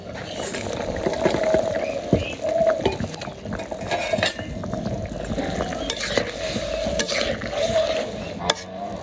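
Koi and jiol fish slide into a pan of frying dara curry, giving a steady, close broadband sizzle with occasional utensil clinks and scrapes throughout.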